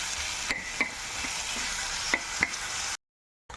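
Curry with curd, turmeric and chili cooking in a pan in a home kitchen, giving a steady sizzle broken by occasional spoon clinks, then cutting abruptly to silence near the end.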